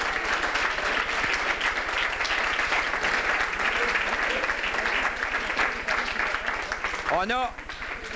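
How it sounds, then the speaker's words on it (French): Crowd applauding at a canoe race trophy presentation, a sustained, even burst of clapping across the whole stretch, with a voice or cheer rising near the end. "Donc, une bonne main d'applaudissement pour André"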